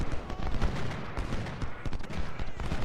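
Musket volleys crackle in the Civil War strategy game Ultimate General: Civil War, a dense, continuous roll of overlapping rifle shots and booms with a steady loud battle din.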